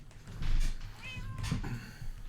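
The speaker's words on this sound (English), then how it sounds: "I just watched a cat run out of this house" A cat meowing in the video game Minecraft, two or three drawn-out mews in quick succession, fairly close and clear, with no talking.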